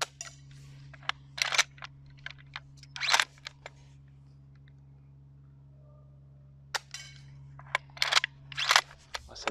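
A gas-powered wooden Kar98K airsoft rifle with ejecting shells fires outdoors, giving sharp, close clicks and snaps in two bursts separated by a quiet pause, with a low steady hum underneath.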